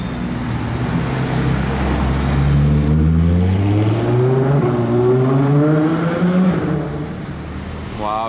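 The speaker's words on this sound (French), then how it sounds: "Et là, d'une petite rue, random, à Monaco, une SP2 arrive face à moi." A Ferrari Monza SP2 drives up a narrow street in Monaco near the casino, its engine note rising and sweeping loudly past as it climbs, then fading toward the end.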